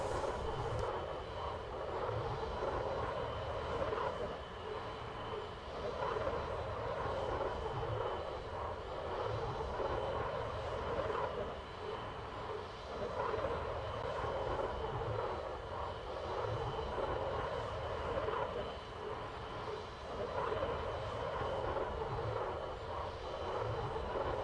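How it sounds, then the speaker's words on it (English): Eurofighter Typhoon jet taxiing in Microsoft Flight Simulator 2020, a steady low engine whine and rumble heard continuously from the cockpit at moderate level with slight swells, no voices. "It's very, very nice to taxi this aircraft"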